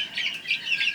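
Chickens cluck on a Puerto Rico farm just after Hurricane Fiona, a quick run of close, fairly loud clucks and chirpy calls heard on their own over about a second.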